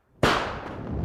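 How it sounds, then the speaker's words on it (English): A misfiring firework at a fireworks festival, a single sharp, loud bang followed by a fizzing, crackling hiss that fades slowly, with no voices. "one firework misfired"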